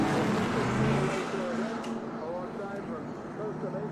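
A Corvette race car with side pipes, number 31, roars past during a vintage race at Monterey. Its loud, rumbling engine note fades over a few seconds while a commentator talks over it.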